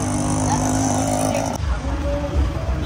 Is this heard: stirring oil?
no